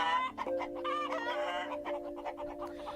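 Hens cluck in quick, overlapping bursts at close range, with a rooster-like crowing tone running underneath, lively and unbroken across a few seconds, with no talk.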